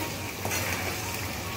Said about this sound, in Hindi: अदरक लहसुन भी अच्छे से भुना रहा है